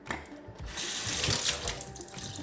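Sink tap water running steadily as canned black beans are drained, a continuous close splashing stream with no speech.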